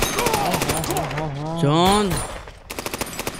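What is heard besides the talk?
machine gun firing in a movie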